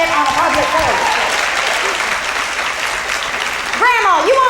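Audience applause fills a comedy show, a steady dense clatter of clapping that runs loud and continuous, with a brief voice rising over it near the end.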